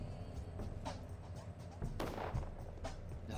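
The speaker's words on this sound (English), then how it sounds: "Oh yeah, gunshots.asmr." Gunfire in the video game Pathologic, with a few dull, distant-sounding shots and one sharper, louder crack near the middle, over a low rumbling game ambience.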